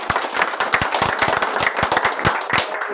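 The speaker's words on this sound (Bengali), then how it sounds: "এই জন্য কোম্পানির জন্য একটা জোরে তালি হবে।" An audience at a marketing and business networking meeting claps loudly and steadily, many hands making a dense run of sharp close claps that lasts the whole stretch.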